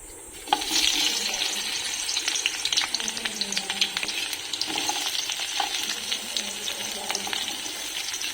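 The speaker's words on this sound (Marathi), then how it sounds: "आता आम्ही याच्यात कांदे टाकतो. कांदे टाकणार आहोत." Chopped onions, three to four of them, dropped into a generous amount of hot oil for a Marathi vegetable dish, giving a steady loud sizzle and crackle that begins abruptly and continues throughout.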